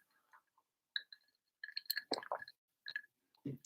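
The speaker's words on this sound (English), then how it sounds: "I'm going to take a sip of water here." Water sipped from a glass indoors: soft glass clinks, quiet slurping and a swallow in a few brief bursts, close and fairly faint, with no talking.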